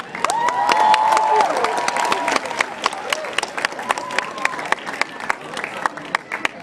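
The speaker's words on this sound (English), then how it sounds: "Round of applause for Paul Krekorian." A crowd at an outdoor rally by the Turkish Consulate applauds and cheers, sustained clapping with shouts and whistles over a few seconds before individual claps thin out, fairly loud and close.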